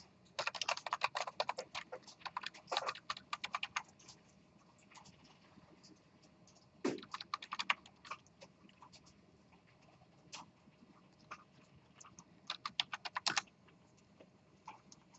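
Students type on computer keyboards in a lecture classroom, quiet scattered bursts of rapid clicking with pauses between, no talking.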